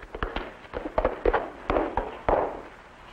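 Several sharp gunshot-like bangs and cracks come from a film scene, arriving irregularly and loud, with some echoing tails and no speech.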